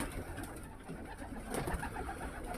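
Racing pigeons coo softly in a loft, low murmuring calls rising and falling close by with no voices.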